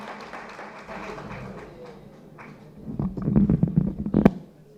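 Applause from a lecture-hall audience greeting a speaker, starting as a low murmur and swelling into a dense burst of clapping near the end before fading.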